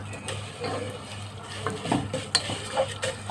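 Vermicelli frying in oil in a pot, a soft steady sizzle with clinks and scrapes of a utensil stirring, growing busier toward the end, close and fairly quiet.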